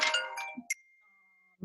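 A phone gives off a short bright notification chime, a few quick high tinkling tones with a thin ringing tail. It sounds faint and close against a quiet background.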